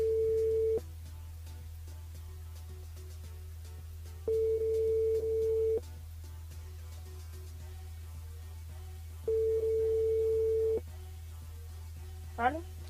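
Telephone ringback tone on a French radio show's call-in line, three long steady tone bursts separated by several seconds of quiet line hiss, with a brief chirp near the end.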